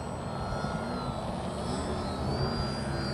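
Cessna 180H scale model airplane engine taking off in windy conditions, a steady loud droning whine holding near and constant throughout with wind noise underneath.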